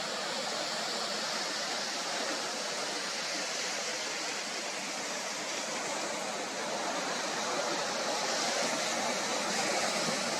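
Ocean surf on a Southern California beach, a steady, broad wash of breaking waves that stays at an even, fairly loud level for the whole stretch, with no distinct individual crashes and no voices.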